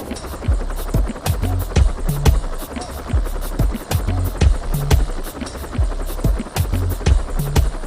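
A helicopter's rotor thumps in a fast, steady rhythm, loud and close, with wind noise and no clear speech over it.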